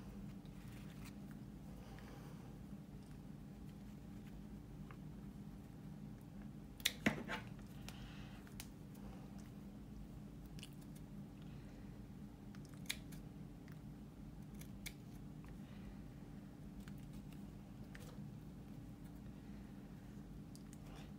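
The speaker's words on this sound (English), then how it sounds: "So now that I've got this shape cut out, I can cut out the other side." Scissors cut out a paper shape during a 1/32-scale model aircraft build. A few faint, sparse snips come close together, with long quiet stretches between them.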